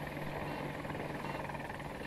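Helicopter in the video game Battlefield 2042: a steady, close rotor drone with a fast pulsing beat and whining engine tone, held constant and alone, with no speech.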